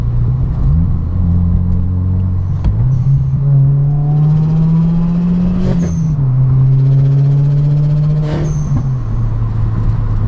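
A catless Subaru WRX idles loudly up close with a low, steady exhaust drone that dips and rises, broken by a few sharp exhaust pops.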